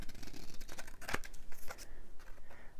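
Scissors snip and trim paper for a junk journal, nearby and quiet: several short crisp cuts, one sharper clip in the middle, amid faint paper rustling.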